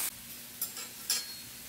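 Burgers sizzling in a pan on a home stove, a steady close hiss of frying with a few brief louder crackling bursts and no talk.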